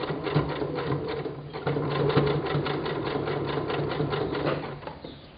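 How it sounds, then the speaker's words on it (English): A sewing machine stitches binding onto a t-shirt at a slow, steady pace, its needle chattering in an even rhythm, close and fairly loud with a brief pause near the middle before resuming. "You'll notice while I'm stitching, I'm lightly holding my presser foot up."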